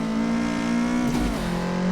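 A turbocharged AE86 Trueno in Assetto Corsa revs loudly and steadily on the Kunsai track, its engine note droning without a break and dipping briefly partway through.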